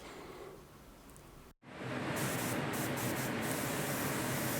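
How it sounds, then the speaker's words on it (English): A paint spray gun hisses steadily at about 35 to 40 psi, pauses briefly, then sprays again louder and more continuous, close by with no voices. "Just coming in there with my third coat, and I'm spraying about 35, pushing 40 psi here."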